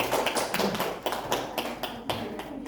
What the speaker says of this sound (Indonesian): Oke, tepuk tangan buat Bapak Topi yang sudah